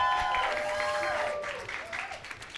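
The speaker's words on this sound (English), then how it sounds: "Please give him a round of applause, please." Brief applause from a panel-discussion audience, a soft wash of clapping lasting a couple of seconds that tapers off, with a voice speaking over it.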